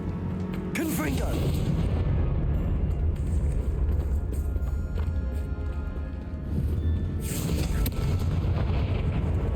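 A Confringo blasting spell in Hogwarts Legacy bursts with a sharp explosive crack near the start and another close to the end, a rumbling game soundscape filling the gap between them.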